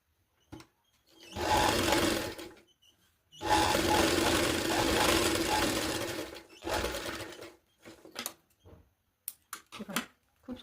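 A sewing machine stitches a strip onto a girl's blouse in two long runs and a shorter one, loud and close, followed by brief clicks and handling sounds.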